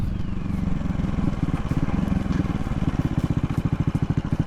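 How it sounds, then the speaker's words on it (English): A CCM Bobber motorcycle engine runs with a close, loud, rhythmic low thump while riding at easy revs, its pulses growing more distinct toward the end. "The engine's not working so hard."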